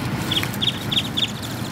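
A large flock of birds calls in a dense, continuous chatter of chirps and squawks close around a car, loud and busy with no pauses.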